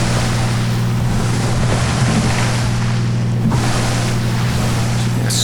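A floatplane in a flight simulator pushes its floats through choppy waves, giving a loud, continuous rushing and splashing wash over a steady low engine hum.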